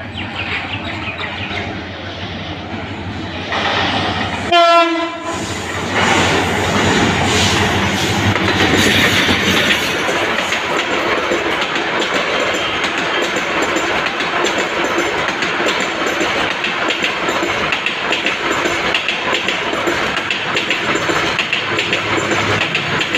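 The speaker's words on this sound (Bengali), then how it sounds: "তো কিছুক্ষণের মধ্যে ভৈরব বাজার জংশনে আসবে" Kalni Express intercity train pulling into Bhairab Bazar Junction: a quiet start, then a sharp brief whistle-like blast and a steady, loud, sustained roar and clatter of carriages on the rails.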